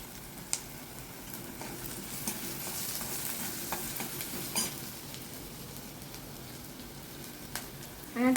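Turmeric being stirred and fried in oil in a pan for a Kokan-style jackfruit bhaji, a steady close sizzle with scraping stirs and occasional sharper clinks of the spoon against the pan.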